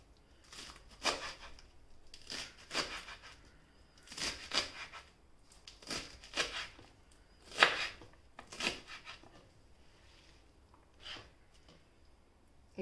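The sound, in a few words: chopping spinach for kootu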